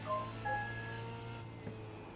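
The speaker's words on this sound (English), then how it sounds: "Now I'm getting messages on my phone." A phone gives short, bright electronic notification tones, a few quick beeps near the start over a low steady background hum.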